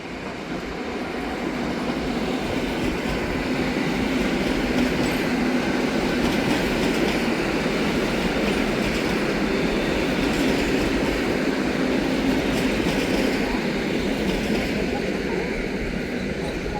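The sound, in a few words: TLK train passing at Warszawa Wschodnia station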